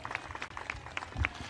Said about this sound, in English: How about a special round of applause for Angela?